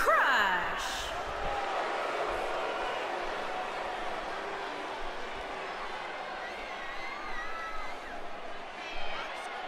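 Arena crowd noise from the WWE 2K19 wrestling video game during a tag team match entrance, a steady, loud wash of cheering and murmur that fills the whole stretch with small swells.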